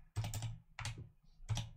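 Quick bursts of typing on a computer keyboard while entering plugin code, three clusters of clattering keystrokes separated by short pauses, close and clear with no talk.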